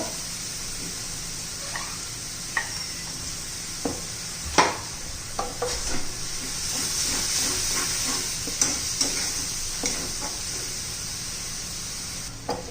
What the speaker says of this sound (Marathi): कारण आपण कच्चा कांदा घातलेला आहे त्यामुळे चांगलासा परतून घ्यायचा तेल सुटेपर्यंत